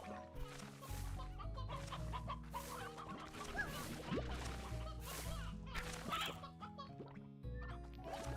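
Chickens cluck in the Slime Rancher video game, repeated short calls scattered over a busy bed of game music, with no talking.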